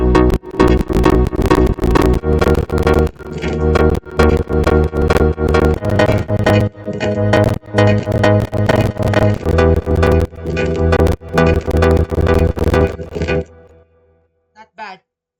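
Chord progression from a plugg-style hip-hop production, a steady repeating pattern of sustained chords with punchy low-end hits, loud and continuous for about fourteen seconds before cutting off into near silence with a few faint taps.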